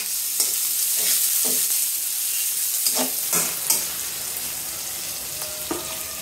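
Onions and tomatoes frying in hot oil for a singi fish curry: a loud, busy sizzle broken by repeated spatula scrapes and clinks against the pan.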